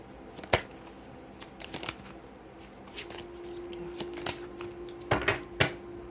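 Tarot-style cards shuffled and drawn for a card reading, giving a loose flurry of papery riffles and sharp slaps. A steady faint tone runs underneath. No one speaks.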